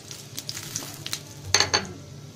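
Bay leaf and cumin hit hot oil in a pan after fish frying, a soft steady sizzle with a few sharp crackling bursts near the end.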